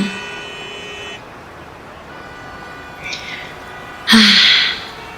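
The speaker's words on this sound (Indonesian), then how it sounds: "macet panjang" Long traffic jam at Cimareme on the road to Batu Jajar, with a low idling hum broken by a short distant horn toot and then one loud, close car horn blast near the end, in a radio drama production.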